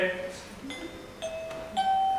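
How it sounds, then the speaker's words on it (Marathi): A household doorbell rings with a few clear chiming tones, close and fairly loud, while a person talks over it. "अरे पण मी बेल का वाजवतोय?"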